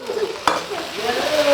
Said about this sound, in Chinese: 下这个肉末，先用小火慢慢的给它煸炒，把它炒散